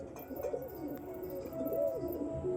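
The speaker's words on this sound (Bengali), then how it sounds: "এই দেখো এই দুটো পায়রা এনেছি" Soft, rolling pigeon coos repeat at close range, with a faint high chirping in the background and no talking.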